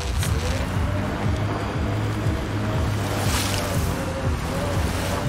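Water waves wash steadily in the video game Mass Effect Andromeda, a loud continuous surf-like rush with a low rhythmic pulsing underneath and no talking.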